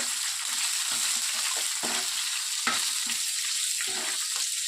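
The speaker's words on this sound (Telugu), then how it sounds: "బాగా వీటిని బాగా వేపుకోవాలండి పచ్చిమిర్చి." Green chillies frying in a pan for Andhra-style methi chutney, a steady close crackling sizzle with faint stirring scrapes running through, no talking.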